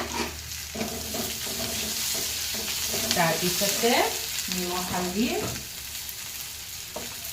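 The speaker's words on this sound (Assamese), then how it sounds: "এতিয়া ইয়াত আলু কেইটুকু দি দিম, সৰু সৰুকৈ আলু কাটি থোৱা আছে" Small-cut potato pieces frying in a pan with pumpkin leaves, a loud close sizzle with stirring and scraping while someone speaks over it.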